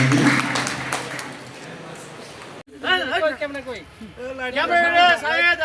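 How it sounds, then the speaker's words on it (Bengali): Crowd applause at a Bogura fish week event honoring a fish seller's profit, a dense broadband clatter for about two and a half seconds, then cutting off as a voice takes over. "আমরা একটু হাততালি দিয়ে তাকে উৎসাহিত করি"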